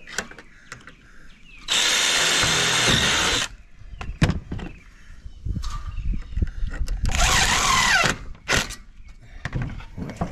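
Power drill driving screws into a mobile home gutter: two loud sustained whirring bursts separated by clanks, knocks and handling thuds, all fairly close with no talk.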